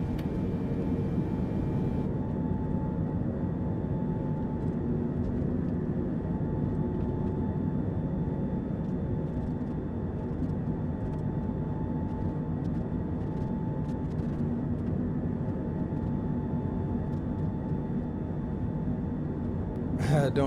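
Boeing 747-8i freighter jet engines in Microsoft Flight Simulator 2024, a steady, broad cabin-like engine drone that continues unchanged for the whole stretch.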